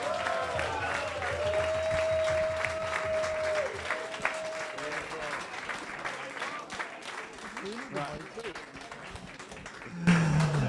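Audience applause at an evening event at a May congress, steady clapping sustained for about ten seconds with a long whistle-like tone and some voices mixed in, fading at the end.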